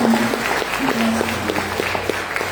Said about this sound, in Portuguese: Assim nós oramos e aplaudimos o Senhor na vida deles, em nome de Jesus.